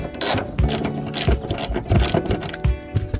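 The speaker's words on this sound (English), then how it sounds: "Got our trusty 14mm socket. We got 2 bolts in the front" Ratchet wrench fitted with a 14mm socket loosening the seat bolts in a Mazda Miata, giving rapid repeated clicking pawl bursts in a steady back-and-forth rhythm, close and fairly loud with no talking.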